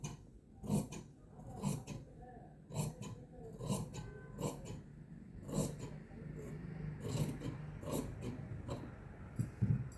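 Scissors cut through a fabric panel for an Anarkali kurti in a series of crisp, irregular snips and rustles, close and fairly faint, with soft handling noise between cuts.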